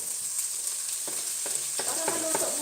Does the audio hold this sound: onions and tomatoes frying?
yes